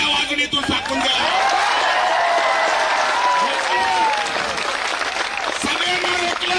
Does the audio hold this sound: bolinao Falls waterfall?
no